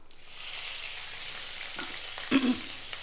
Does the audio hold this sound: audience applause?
no